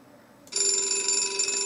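A telephone rings in the children's video game Fred und das Flaschenfahrrad: a steady electronic tone with bright harmonics starts abruptly after a short quiet moment and holds loud and continuous to the end, with no talking.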